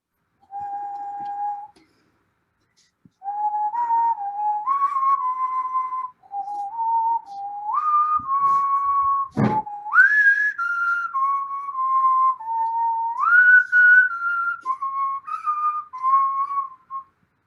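A person whistling into a microphone, a close, clear series of wavering melodic tones in short phrases with a brief gap near the start and one sharp click midway, no talking.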